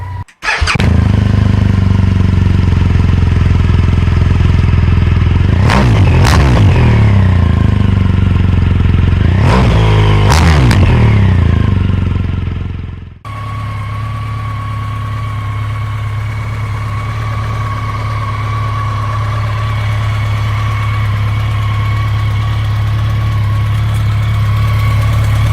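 BMW K100RS motorcycle engine cranks and fires, revs up in several sharp, rising bursts, then settles into a steady, loud, close idle with an even drone; no talking over it.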